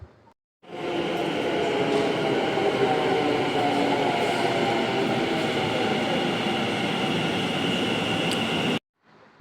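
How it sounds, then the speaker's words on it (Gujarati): A metro train rolls into a station platform with a steady electric motor whine and rumble, rising from quiet, holding loud, then cutting off abruptly. "તમે મેટ્રોનો અવાજ સાંભળ્યો? કેવો ઇલેક્ટ્રિકનો અવાજ આવે છે."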